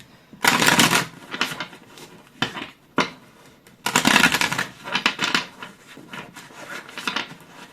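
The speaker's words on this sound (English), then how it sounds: "Let me just shuffle, actually" Tarot cards are shuffled in two loud riffling bursts with softer taps and shuffles between them, close up, no talking.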